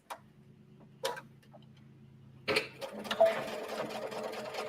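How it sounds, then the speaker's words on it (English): A sewing machine back stitches the side seams of a sunglass case in short bursts of rapid mechanical ticking, starting and stopping close by with a faint hum between runs. "it's also very easy to use the sewing machine and just sew this up"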